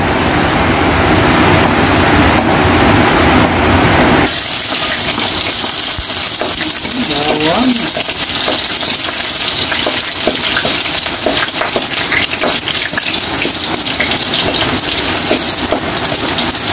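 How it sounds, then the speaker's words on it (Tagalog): Garlic sautés in hot cooking oil in a pan for chicken tinola, giving a loud, steady, close sizzle that shifts and settles slightly after the first few seconds, with no talking. "magigisa tayo, guys, ng gisa tayo ng bawang"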